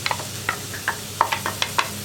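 Ground masala paste for an onion fry roast curry sizzles in a hot pan, with a steady frying hiss under repeated stirring scrapes and clinks of a spoon, close and moderately loud.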